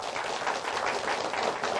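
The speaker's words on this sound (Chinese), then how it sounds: "我们先用热烈掌声来欢迎" Audience applause greets a speaker at a speaking-skills lecture, a brief, even patter of many hands clapping at moderate level without talk.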